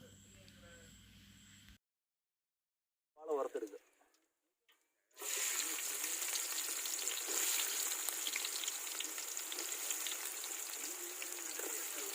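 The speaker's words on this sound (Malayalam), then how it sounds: "സവാള വറുത്തെടുക്കുന്നതിന് കുറച്ച് എണ്ണ ഒഴിച്ച് കൊടുക്കുക" Broadband sizzling of onions frying in oil for biryani, loud and steady after a brief gap with some clatter, continuing without talk.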